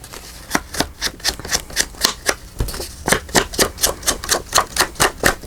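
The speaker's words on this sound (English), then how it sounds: "Erase my pencil lines." An eraser scrubbing pencil lines off paper, a quick series of rhythmic rubbing strokes, each a short swish, repeated steadily and close up.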